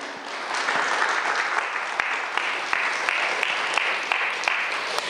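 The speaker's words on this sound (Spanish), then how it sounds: "Cuando damos un aplauso al Eterno." A church congregation applauds during a sermon, sustained dense clapping from many people with a few sharper individual claps standing out, steady and fairly close.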